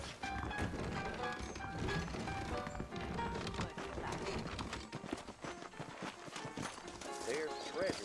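Horse hooves clip-clop continuously in the western video game Red Dead Redemption, a busy trotting rhythm of close thuds running the whole time, with characters talking over it.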